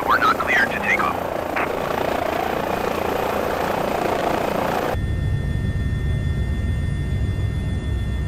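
Airbus H145 helicopter flying in a flight simulator video game, a steady loud rotor and turbine drone throughout, with brief higher chatter early and a lower, muffled engine rumble in the second half.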